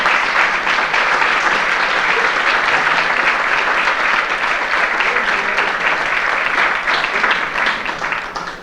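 Banquet audience at a senior sports dinner applauding the kitchen committee, a loud, sustained roomful of clapping that holds steady for several seconds before tapering slightly at the end.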